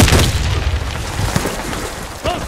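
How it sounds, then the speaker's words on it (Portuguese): A grenade detonates in the online shooter Warface, a loud boom opening the clip and rolling into sustained rumbling debris noise, with a voice calling out faintly underneath. "Granada!"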